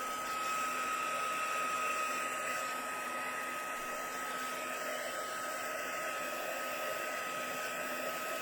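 Hair dryer blowing steadily to dry watercolor paint, a continuous close whir with a high tonal whine that holds unchanged for several seconds with no talk.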